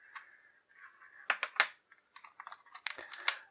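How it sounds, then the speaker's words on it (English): An X-Acto knife slices open tape holding weapon accessories in a GI Joe action figure package, giving a quick series of close, crisp scratchy cuts and rustles with no talking. "I'm going to take my X-Acto knife here and just slice that tape open"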